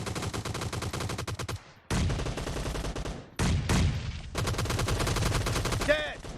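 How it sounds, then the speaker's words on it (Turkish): Gunfire in a multiplayer shooter match on a hangar map, with dense automatic bursts crackling close and loud, broken by a few brief gaps, and a faint electronic chime near the end. "adamda nasıl bir hile varsa Emir ineğinde havada uçarken kafadan vuruyor"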